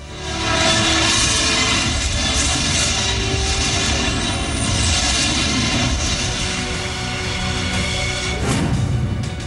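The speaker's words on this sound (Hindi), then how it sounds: "दुनिया के सबसे ताकतवर शख्स का सबसे पावरफुल विमान" Air Force One, the American presidential jet, produces a loud, steady jet-engine roar that holds at a constant level throughout, with no voices.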